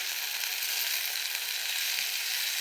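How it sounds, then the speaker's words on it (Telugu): Mint, coriander and green chilies fry in oil, making a bright, continuous close sizzle with a faint stirring texture and no voices. "పుదీనా, కొత్తిమీర, పచ్చిమిర్చి ఒక్క దగ్గర వేయించాలండి."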